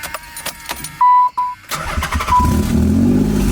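Nissan 300ZX with a possible exhaust leak and nearly empty tank cranking and firing up; a brief loud crank, then the engine catches and settles into a rough, close idle.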